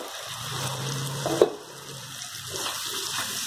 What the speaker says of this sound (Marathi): थोडंसं एकदम पाणी याच्यामध्ये टाकून घेऊ